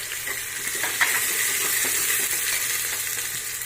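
Cumin seeds frying in hot oil in a pan for kadhi chawal, giving a steady, close hiss and crackle that runs through the whole stretch without a break, with no talking over it.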